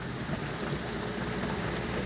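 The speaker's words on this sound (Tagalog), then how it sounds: "Naulan pa ulan pa." Steady rain falls in a dense, even hiss, close and loud throughout, with a low rumbling undertone that may be distant thunder, and no voices.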